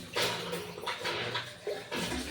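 Water gushes into a container in uneven bursts, a rushing, splashing flow that surges and pauses a few times.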